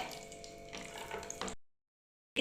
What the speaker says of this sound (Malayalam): അതിലേക്ക് നമുക്ക് ഒരു ടേബിൾ സ്പൂൺ നെയ്യ് ഒഴിച്ചു കൊടുക്കാവേ നമുക്ക് ഒരല്പം നട്ട്സ് ഇട്ട് കൊടുക്കാവേ